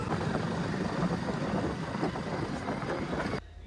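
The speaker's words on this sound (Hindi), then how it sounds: "बाइक चालू कर दें" A motorbike runs steadily while being ridden. A continuous rumbling engine is mixed with heavy wind buffeting on the microphone, and the roar drops sharply near the end.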